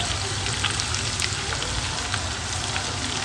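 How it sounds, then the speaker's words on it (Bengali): Chopped garlic, white spring onion parts and dried red chillies sizzling together in a pan for chicken chilli, a close, continuous crackling fry with small pops scattered through it and no talk. "সব কিছু একসাথে আমি মিক্স করে ভেজে নেব"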